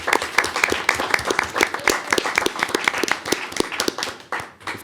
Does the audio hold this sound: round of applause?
yes